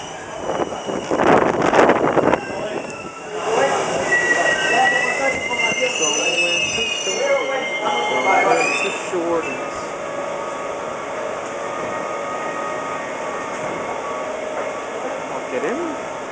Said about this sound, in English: We're riding the Metrorail train.